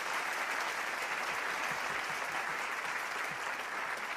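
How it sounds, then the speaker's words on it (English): Sustained, dense applause from a large crowd at an anniversary celebration honoring True Parents, even and continuous throughout without any pause. "give True Parents a big round of applause"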